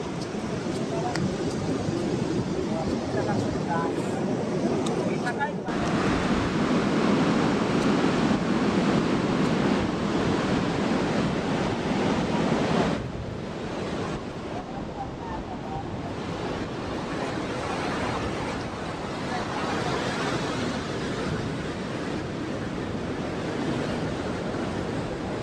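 Sea waves wash onto an untouched sandy beach on the Konkan coast, a loud, continuous roar of surf with wind rushing across the microphone, easing slightly in the second half as distant voices come and go.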